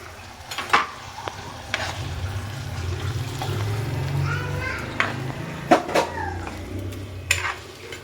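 Tadka of hot oil sizzles for a malai kofta dish in a home kitchen, a low steady fry under frequent clinks and scrapes of a utensil, with people and children talking nearby.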